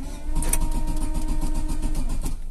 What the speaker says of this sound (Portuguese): O carro não quer pegar, galera, de jeito nenhum.